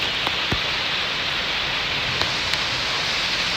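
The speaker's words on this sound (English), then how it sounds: "Gotta love it. I love rain." Steady rain falls in a constant hiss, with a few sharper drip and tap transients standing out against the wash, close and fairly loud throughout with no talking.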